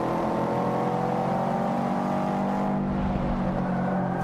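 A production rally car in the Forza 5 racing game holds a steady engine drone, sustained revving and whir close and loud throughout with no talk.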